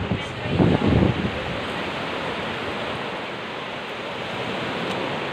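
Rough sea surf at Apad Beach, a steady, broad wash of breaking waves with a louder rumbling surge near the start, then a constant roar, close and loud, with some wind on the microphone.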